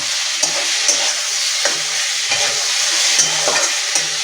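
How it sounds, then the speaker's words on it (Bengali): Chopped tomato is stirred in a frying pan of hot oil for a fish curry with cauliflower and potato: a continuous close sizzle broken by rhythmic spatula scrapes every half second or so. "টমেটোটা দিয়ে ভালো করে আমি গলে যাওয়া অবধি নেড়ে নেব"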